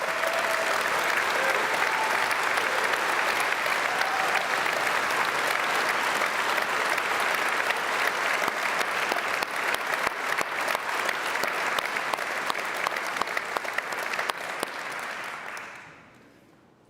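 Sustained applause from a large audience at a live cooking competition grand final greeting the nine finalist chefs, a dense, even roar of clapping that holds steady for about fifteen seconds before quickly fading out.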